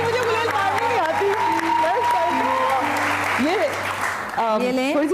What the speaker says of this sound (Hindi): चलो भाई, मान अलीना के लिए तालियां।